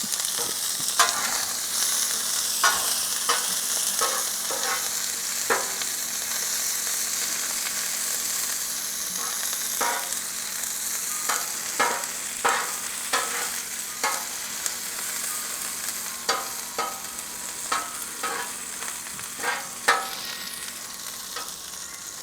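Onions fry in beef tallow on a griddle beside smash burgers, a bright continuous sizzle with frequent sharp spatula scrapes and taps in an uneven rhythm, close up and without speech.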